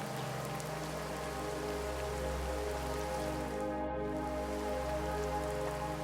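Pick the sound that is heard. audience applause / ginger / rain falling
rain falling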